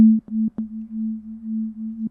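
A synthesizer oscillator in FM mode with nine unison voices gives a steady low droning tone, retriggered a few times with soft clicks early on, then held alone.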